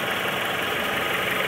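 The engine of a 1998 Honda Civic EX coupe idles steadily, a close, even hum with a faint mechanical whir and no speech.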